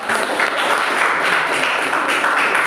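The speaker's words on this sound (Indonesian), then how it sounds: "tepuk tangan dong buat teman." Classmates in a classroom break into steady, dense applause for a fellow student, a close, continuous wash of many hands clapping evenly throughout with no voices on top.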